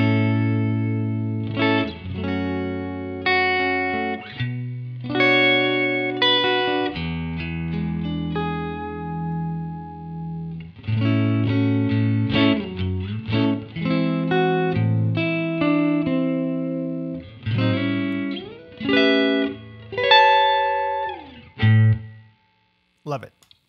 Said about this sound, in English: Here is the neck pickup.